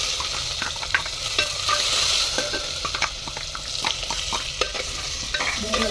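Onions fry with a steady sizzle in a pan over a clay wood-fired stove, with repeated scraping clicks of a spoon stirring them throughout, close and fairly loud, no talk.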